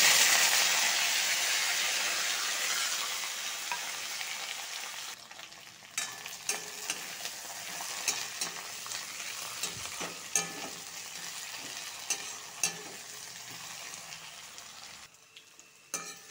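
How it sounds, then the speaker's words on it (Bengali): Taro and potato strips sizzle in a pan, loud at first and then settling into a quieter fry, with occasional sharp clicks of stirring. "এটা একটু ভেজে নিব"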